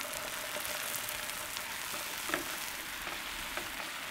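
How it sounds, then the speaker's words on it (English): Shrimp and cream sauce cooking in a pan for a Thai-Italian tom yum spaghetti, giving a continuous close sizzle with soft bubbling and occasional stirring clicks, no talking. "Make sure to keep stirring so things don't get burnt."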